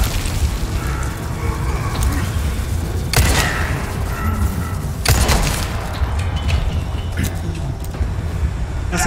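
Two loud, sudden blasts in Resident Evil 4 Remake burst out a couple of seconds apart over a constant rumbling background, with crackling after each.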